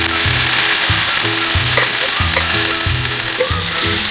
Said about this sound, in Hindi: इसको तब तक मिक्स करना है जब तक कीमे का कलर चेंज नहीं हो जाता